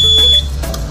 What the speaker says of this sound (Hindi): ये साउंड की बीप देगी जब भी पैकिंग जब हम करेंगे और वो सील हो जाएगी।